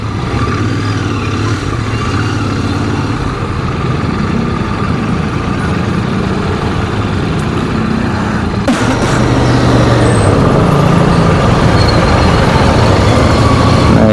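Steady road traffic on Aguinaldo Highway, a continuous low rumble of cars, trucks and buses passing nearby, with a brief air-brake hiss and slightly louder flow toward the end.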